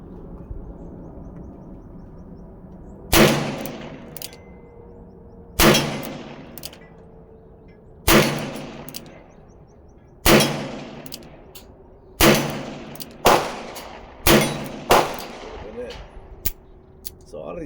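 A Ruger GP100 revolver fires eight sharp, loud shots, spaced a couple of seconds apart at first and then quicker, each crack ringing out with a short echo.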